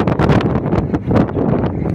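Strong gusts buffet the microphone high above Sydney's harbour, loud uneven rumbling bursts of wind.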